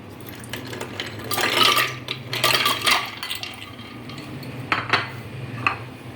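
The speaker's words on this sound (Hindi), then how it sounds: "इसमें हम 2 गिलास दूध डालेंगे, आइस क्यूब्स डालेंगे" Milk poured and ice cubes dropped into a container for a banana milkshake, giving a few bright clinks and rattles of ice against glass over a low steady hum, with no talking.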